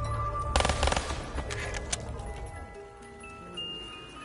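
An MG fires in a zombies video game, a rapid rattling burst of gunfire near the start followed by a few scattered shots and lingering in-game tones as it tapers off.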